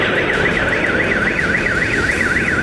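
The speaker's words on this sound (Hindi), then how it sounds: "कीव में एक साथ कई धमाके हुए और उसके बाद सायरन बजने की आवाज सुनाई दी।" A loud rising-and-falling air raid siren wails in a rapid, regular cycle in Kyiv, continuous and close, with no voices heard.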